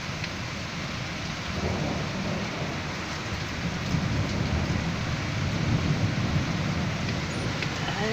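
Heavy rain pours steadily during a severe storm with possible tornado, with low rumbling thunder rolling underneath, a dense continuous roar growing slightly louder toward the end.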